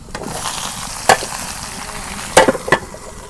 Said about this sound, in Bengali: তরকারিগুলা বাগার দিই।